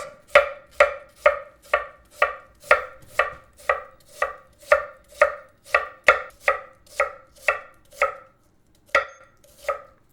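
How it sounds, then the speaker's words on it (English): A knife chopping onion on a cutting board for escarole and beans, about eighteen crisp evenly paced strikes close up, each with a sharp woody knock, pausing briefly before the last two chops. "Now, we chop the onion."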